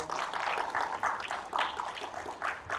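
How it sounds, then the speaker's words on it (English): A school team's audience at a youth Bible quiz competition claps steadily, a crowd's dense patter of applause lasting a few seconds without talk. "Let's give our Ontario team a round of applause."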